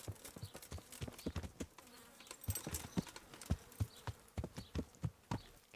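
Horse hooves clip-clop in a steady walking rhythm in the medieval role-playing game Kingdom Come: Deliverance, moderately close, with a faint buzzing insect-like ambience around them.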